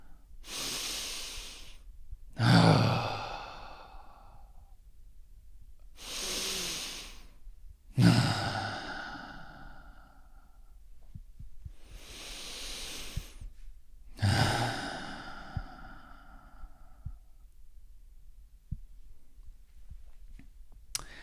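A person breathes slowly and deeply, with three long cycles of a hissing inhale followed by a heavier sighing exhale, close and clear with nothing else heard.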